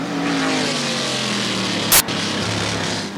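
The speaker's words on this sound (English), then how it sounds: "At that speed, there's a lot of noise in the motor car." A V8 sports sedan race car screams down a straight at high speed, its loud sustained engine note steady and close, broken briefly by a sharp, short burst.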